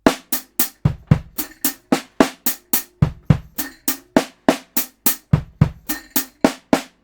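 A drum kit plays a modern groove, crisp snare and hi-hat hits in a steady fast pattern with kick drum strokes swapped into the last beat, close and loud throughout, no voices.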